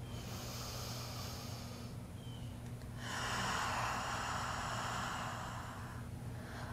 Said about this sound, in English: Three more rounds of breath.